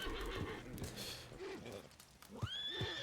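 A horse gives a loud, close whinny near the end of the short stretch, a rising then falling neigh, with a few hoof clops and rustling noise before it.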